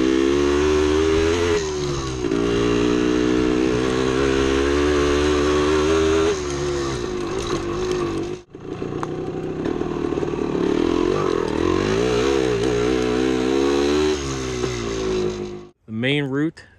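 A 1975 Yamaha DT250 two-stroke dirt bike climbs over rocks on a woods trail, its engine buzzing and revving hard with rapid surges and a brief drop partway through, loud and close throughout.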